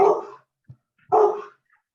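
A pet dog named Tango gives two sharp barks indoors, close and loud, with a short pause between them.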